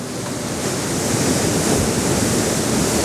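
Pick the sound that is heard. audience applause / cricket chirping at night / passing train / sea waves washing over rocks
sea waves washing over rocks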